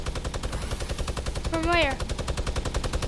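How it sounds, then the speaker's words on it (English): Rapid bursts of gunfire in the video game Fortnite rattle steadily throughout, loud and close, while a player's voice briefly speaks over them. "Bro, somebody shooting gunshots at us."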